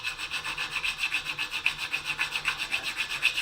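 A metal jaw harp reed being filed by hand with fine, careful strokes, a steady rhythmic rasping repeated about twice per second, close and clear with no voices.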